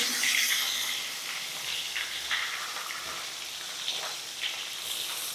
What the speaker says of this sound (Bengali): এই মাছটা ভাজা হয়ে গেলে বাকি যে কটা মাছ আছে সে কটাও কিন্তু আমি ভেজে নেব